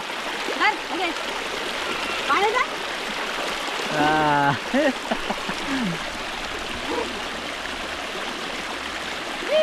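Steady rushing water, like a stream or splashing, runs throughout while a voice calls out in short bursts over it, playing in the water during monsoon rain.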